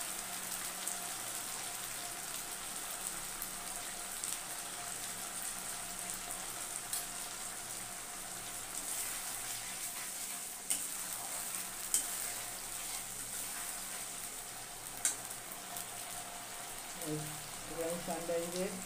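Spices sizzle in hot oil in a pan for chicken korma, a steady, faint crackling hiss over several seconds, with a few stirring clinks and a voice speaking near the end.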